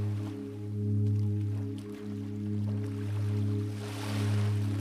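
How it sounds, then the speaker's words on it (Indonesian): Ocean waves roll and wash softly in slow swells at sea, a steady low drone running underneath the gentle surf. "bersama suara ombak yang mulai melembut,"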